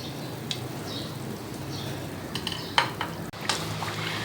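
Chicken kachoris frying in oil in a kadhai, a steady soft sizzle with occasional clinks and stirring scrapes, close and continuous with no talk.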